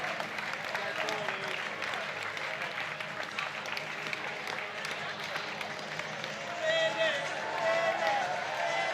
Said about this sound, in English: The crowd is building here, the atmosphere is really picking up.